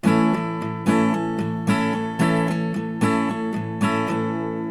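An acoustic guitar strums a steady, repeating rhythm for a song at standard tempo, with strong accented downstrokes ringing out about every second, played alone.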